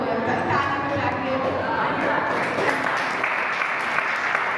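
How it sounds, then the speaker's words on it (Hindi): A church congregation claps together in sustained, dense applause that fills the room at steady volume throughout, with some voices mixed in. "உனக்காக தேவனுக்கு கரங்களை தட்டி நம்ம ஸ்தோத்திரிப்போம்."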